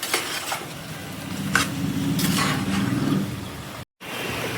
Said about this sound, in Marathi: मुंडीला मिक्स करून घेऊया।